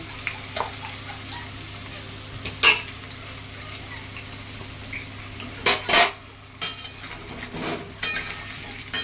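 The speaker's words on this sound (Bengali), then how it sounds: "আলুগুলোকে আমি লাল লাল করে ভেজে নিচ্ছি।" Potatoes fry in a pan for mutton curry, a low sizzle under repeated metallic scraping and clinks of a spatula against the pan, with a few sharper knocks.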